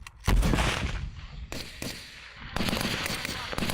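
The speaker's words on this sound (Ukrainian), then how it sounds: "Так працюють з гранатомета." Loud booming blasts from a grenade launcher during military training, one sharp shot followed by further heavy reports and echoing rumble, close and forceful.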